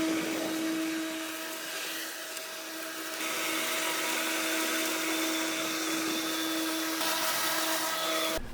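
STIHL battery lawn mower running steadily while mulching and bagging grass clippings, a constant whirring motor hum with a high whine, close and continuous throughout.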